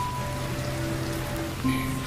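Steady rain patters on a surface throughout, a constant hiss with no voices.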